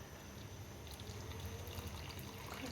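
Hot water from soaking kudampuli poured into a curry, a soft steady trickle and splash that runs for a few seconds without pause.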